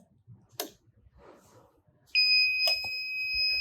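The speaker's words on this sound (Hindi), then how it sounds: "मशीन ने अलार्म स्टार्ट कर दिया है" A 5-in-1 combo cap press heat printing machine sounds its alarm, a loud steady electronic beep that starts after a few clicks and handling noises and continues without pause, close by.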